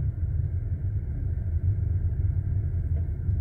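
A Chery Tiggo 8 Avantgarde creeps down a steep hill under hill descent control at about 12 km/h, its low engine rumble and road drone holding a steady hum with no voices.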